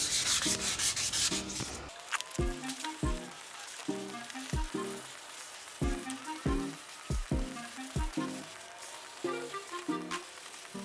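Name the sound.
sanding a repaired fiberglass bumper smooth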